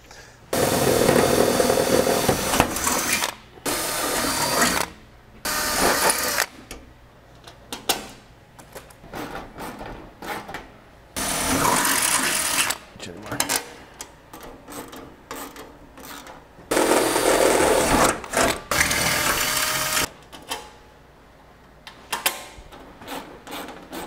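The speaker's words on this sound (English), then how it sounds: "we're gonna go ahead and drill the holes for the outer 2 wing struts" Power drill boring holes in the 15-inch strutless drag wing deck of a Camaro for the outer wing struts, loud bursts of grinding a few seconds long, separated by pauses and quieter clatter.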